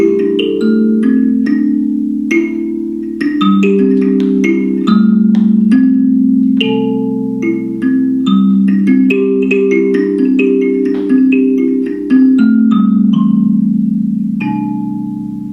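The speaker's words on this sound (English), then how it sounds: "This is an electric Kalimba, and this one sounds like this." Electric kalimba plucked in a flowing melody, bright metallic tines ringing over sustained low tones, close and loud, continuous with no voices.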